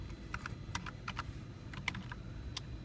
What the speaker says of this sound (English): So I'm going to type xadmin down here.